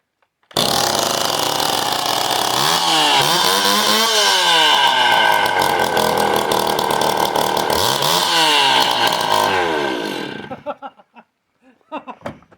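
A chainsaw running without a muffler roars very loud and raspy, revving up and down twice, then cuts out, leaving a few faint knocks and sputters at the end.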